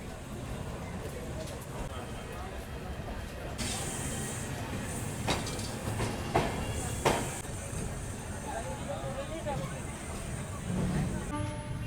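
Amrit Bharat Express sleeper train running on tracks near Raxaul, with steady loud rumble and rail noise throughout, hissing bursts and a few sharp clanks over the continuous roar.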